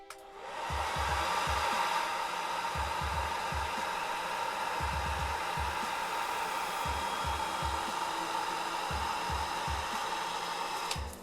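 A hair dryer on gentle low heat is swept over masking tape on a watercolour painting, a steady close airy whir running unbroken for about eleven seconds with soft low bumps as it moves.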